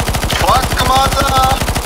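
Rapid automatic gunfire in CS:GO Zombies, a loud, fast, evenly spaced burst of shots running throughout, with faint game tones behind.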